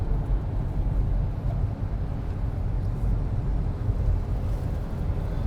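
A Proton X70 SUV with a 1500cc three-cylinder engine accelerates in sports mode, heard from inside the cabin as a steady, loud low rumble with road and wind noise throughout and no talking.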